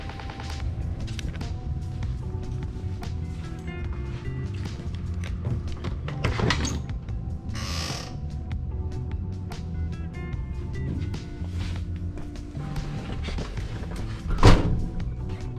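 Door thunks and clunks come as someone climbs into a 1979 Lil Red Express pickup truck, with scattered taps and rustles inside the cab and a sharper single slam near the end.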